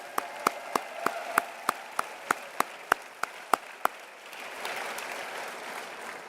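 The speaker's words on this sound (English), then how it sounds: "I want to just give us all a round of applause for this incredible team" An audience at a housing build-project opening ceremony claps, sharp evenly spaced claps ringing out in a steady beat before dissolving into a softer, spread-out wash of crowd noise.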